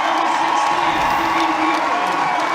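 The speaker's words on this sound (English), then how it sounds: "Sarah Beckett, Leanne Riley and Marley Packer are getting a rich round of applause here from this huge crowd at Sandy Park." A huge crowd at Sandy Park applauds during a women's rugby match, England against Italy, a steady wash of clapping and cheering that carries through the whole stretch, with a commentator's voice riding faintly over it.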